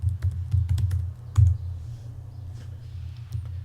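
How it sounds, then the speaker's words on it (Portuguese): Keystrokes on a computer keyboard while typing notes into a Google Colaboratory notebook, a quick irregular run of clicks in the first second, one louder clack, then lighter scattered taps, close and clear with no talking. "à medida que eu vou digitando aqui"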